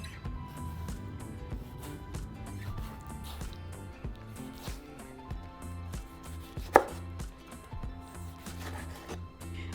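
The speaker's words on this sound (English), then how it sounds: "So I'm going to start by chopping 5 roma tomatoes." Knife chopping roma tomatoes on a cutting board, with steady rapid blade strikes close up, no talking.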